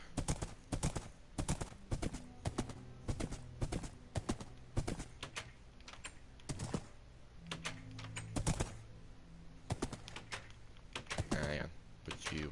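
Horse hooves clip-clopping in Minecraft, a long run of sharp, uneven clacking steps heard close up, with brief pauses and a few quieter stretches.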